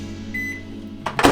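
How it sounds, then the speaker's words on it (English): A kitchen microwave oven hums steadily, with a single short beep as it is reset, followed by a couple of louder clunks or rustles at the end. "Alright, we gotta reset the microwave."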